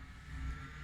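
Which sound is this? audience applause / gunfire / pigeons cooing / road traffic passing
road traffic passing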